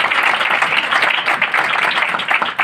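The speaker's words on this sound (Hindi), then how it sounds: "तालियां मार दे" A church congregation claps together through a worship gathering, a continuous, loud patter of many hands with a slightly rhythmic pulse and no speech.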